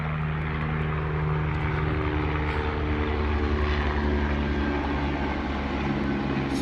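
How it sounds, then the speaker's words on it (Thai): A helicopter flies overhead, a steady loud engine and rotor drone holding throughout with a constant low throb, no talk over it. "เฮลิคอปเตอร์"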